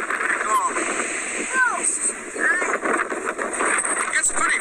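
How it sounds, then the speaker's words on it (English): Wind blows across the open deck of a cruise ship out at sea with a steady, gusty rushing roar close to the microphone, while voices talk faintly underneath. "It gets pretty windy out here."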